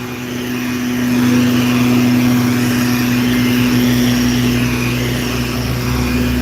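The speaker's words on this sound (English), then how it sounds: "It's gonna get kind of loud. About to go past a leaf blower." A steady motor drone with a constant buzzing hum that swells slightly as it draws closer, then holds loud and unbroken.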